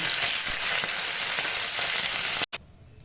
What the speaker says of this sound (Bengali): এখানে আমি এই মাংসের টুকরোগুলো যে করেছিলাম সেটা আমি ভেজে নেব।